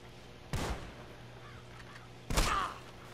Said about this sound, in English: JJ, get ready to shoot me some more.